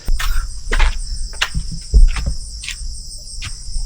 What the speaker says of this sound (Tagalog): Dito, mga guni-guni ng kuliglig yung aking naririnig.